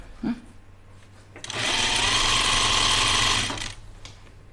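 A sewing machine stitches a dress seam in one sustained run of about two seconds, close and fairly loud with a mechanical whir and rattle, preceded by a faint click and followed by quiet.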